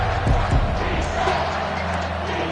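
A football stadium crowd roars at a big third-down play in a Vanderbilt at Tennessee college game, a dense sustained wash of cheering with a commentator's voice over it.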